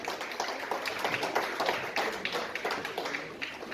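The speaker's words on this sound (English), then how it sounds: "Give them a round of applause, please" Audience at a temple benefit gala luncheon applauding, dense close clapping from many hands, lively and sustained at a steady level.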